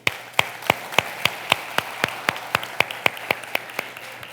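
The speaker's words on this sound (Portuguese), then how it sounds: "Uma salva de palmas para o Lucas, por favor." A church congregation applauds for Lucas with rhythmic, evenly spaced claps, roughly four per second, bright and sharp against a light wash of scattered clapping, with no talking.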